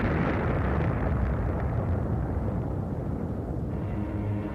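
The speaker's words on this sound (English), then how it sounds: "Trailing streams of fire, it broke into our atmosphere, and then came the explosion." A space object explodes as it plunges fiery through Earth's atmosphere, a massive blast likened to a thermonuclear detonation; a loud, sustained low rumble and roar fills the whole stretch without easing.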